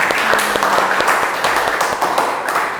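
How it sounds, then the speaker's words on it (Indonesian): Ninth-grade students applaud together in a classroom: dense, steady clapping throughout, fairly loud and close, with a faint voice underneath. "Kita berikan tepuk tangan untuk kita semua."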